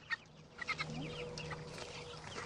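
Chickens cluck in short, scattered bursts over a low, steady background hum, fairly soft and a little distant.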